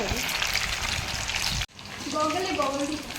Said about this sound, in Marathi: थोडंसं ब्राऊन होईपर्यंत तळायचं